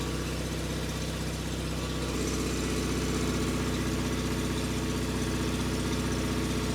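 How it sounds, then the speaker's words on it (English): Small engine of a 37-year-old John Deere 316 lawn tractor idling, a steady close rumbling drone with even pulsing throughout, no talking. "let's fire it up, see what we get for running voltage"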